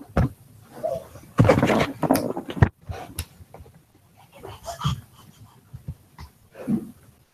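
A dog pants and breathes in short, uneven bursts close by, with a louder flurry of rough breaths and snuffles in the middle and quieter huffs trailing off afterward.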